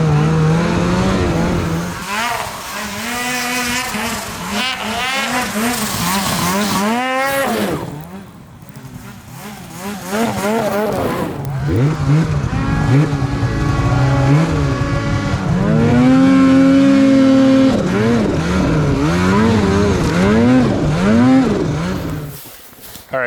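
A snowmobile engine fitted with an aftermarket Sidekick muffler, revving and droning loudly at close range, rising and falling in pitch over a long stretch with no talking.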